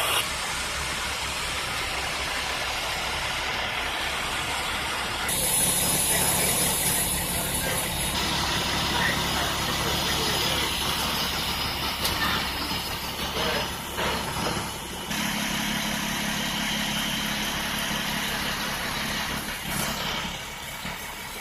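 Fire trucks idle outside a residential structure fire, their engines and pumps giving a steady mechanical drone with rattling and clanking layered over it and a louder surge partway through.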